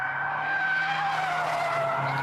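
Vauxhall car on a test track, tyres skidding as understeer on turn-in snaps into oversteer on the exit, a steady sustained squeal over engine drone for about two seconds, close and continuous.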